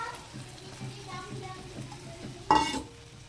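Kidney beans are stirred into fried spice masala in a pan, giving a soft sizzle with scraping strokes and then a sharp clatter near the end, heard close.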